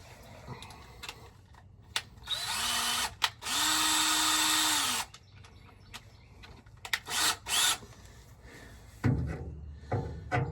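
A step drill bit bores a 1/2 inch hole during a trailer hitch install on a Squarebody Chevy, giving two loud, steady bursts of drilling near the mic, with short bumps and scraping handling noises between them.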